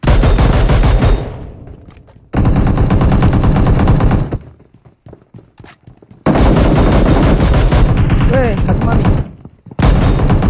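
Rapid automatic gunfire in a shooting video game, loud bursts of machine-gun fire split by short quiet gaps, with faint game sounds between volleys.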